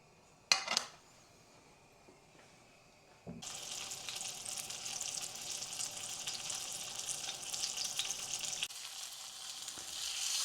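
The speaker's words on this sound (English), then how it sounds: "So we're basically just giving it a bit of a sear and some butter." Sous vide chicken searing in butter in a hot pan: a brief clatter, then a loud, steady, close sizzle that holds for several seconds before easing off.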